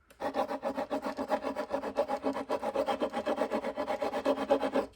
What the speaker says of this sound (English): I just take my sanding stick and knock off that corner